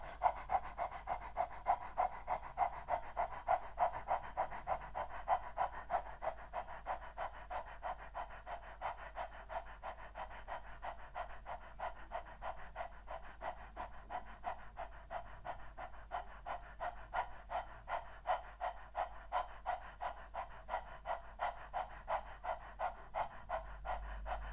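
A group panting rhythmically together in a gentle yoga breathing exercise, quick even breaths repeating steadily for the whole stretch at moderate, close level with no talking.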